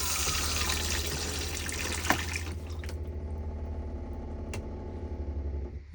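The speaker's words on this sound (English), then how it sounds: "Press the blue button just here if you want the water to pump around for the flush." A cassette toilet in a Nu Venture Elise motorhome runs its flush pump, giving a steady close rushing of pumped water with a low motor hum that stops abruptly partway through, leaving a quieter hum with a single click.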